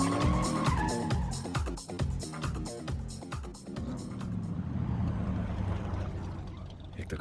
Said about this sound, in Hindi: एक तो गाड़ी भी इतनी तेज चलाती है ना।